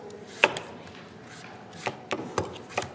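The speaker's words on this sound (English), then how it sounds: "So we want to cut this in pieces" Knife chopping through a peeled Hubbard squash into pieces, a few separate sharp cuts on a board, close and moderately loud with quiet gaps between strikes.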